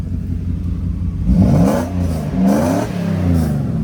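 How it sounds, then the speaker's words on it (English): A Mercedes W140 S500 engine revs up repeatedly in loud, close, rising and falling surges over a steady idle, with its cooling fans running and no talking. "if I go ahead and rev the car,"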